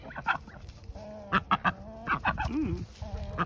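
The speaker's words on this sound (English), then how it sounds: "Didn't know we were gonna get a chicken duck fight in here." A chicken and a duck squabble nearby, with rapid agitated clucks, squawks and harsh quacks overlapping in loud irregular bursts.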